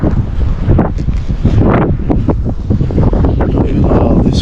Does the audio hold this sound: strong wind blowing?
yes